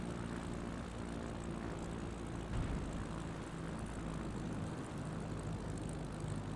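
Propeller plane engine in a flight simulator game during a bush-trip landing attempt in alpine terrain, a steady droning hum held at an even level throughout, with one brief louder bump partway through.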